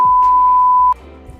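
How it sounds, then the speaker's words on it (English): A single loud, steady censor beep tone lasting nearly a second, cutting off abruptly and leaving faint background noise. "let's beep out his real name in post"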